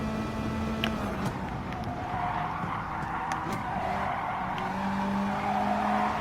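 A Mazda Atenza in Gran Turismo Sport oversteers through a corner: a steady engine drone runs throughout, overlaid with sustained, wavering tire squeal.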